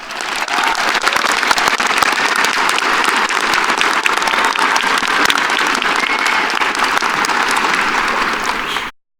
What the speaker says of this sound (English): We all deserve a round of applause for that.